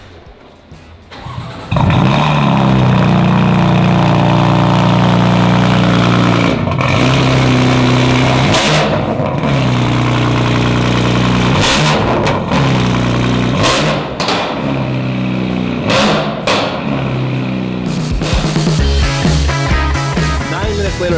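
A Lamborghini engine starts with a loud bark and settles into a deep, rumbling idle, then gets blipped repeatedly into sharp revs close by, with a few short spoken words between the bursts.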